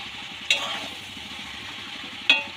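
A dry cauliflower curry with coriander leaves is stirred in a frying pan: two sharp spatula scrapes stand out against a soft, constant sizzle.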